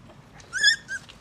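A small puppy from a litter found in a hospital's wall cavity gives two short, high whimpering cries, close and fairly soft, against a quiet background.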